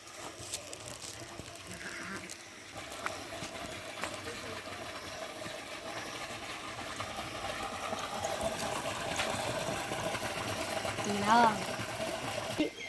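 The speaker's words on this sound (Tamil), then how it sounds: "இங்க பாருங்க எப்படி தண்ணி போகுதுன்னு." Water flows through a village grove during a bathing outing, a soft continuous rushing heard faintly under people talking, with a brief bleating animal call near the end.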